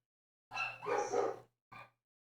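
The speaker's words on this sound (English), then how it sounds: "The dogs in the background." A dog barks a few times at moderate distance, a couple of sharp yelps in quick succession followed by a shorter bark.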